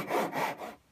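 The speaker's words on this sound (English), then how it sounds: "So I'm going to cut down to about an eighth of an inch here" A handsaw cuts into the thin wooden lid of a cigar box for a cigar box guitar neck, with three quick raspy back-and-forth strokes close up, alone and fading at the end.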